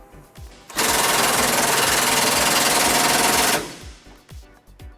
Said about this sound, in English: Now we're going to tighten up both of those bolts to put our bumper back into place.